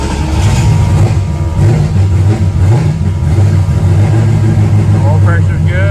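A car engine fitted with a freshly repaired TH400 automatic transmission runs steadily and loud, a low rumbling idle with a rise in revs near the end and talk over it.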